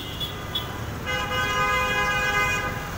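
A newly fixed motorbike horn sounds amid traffic on a Dhaka street: two short toots, then a longer sustained honk over the road rumble.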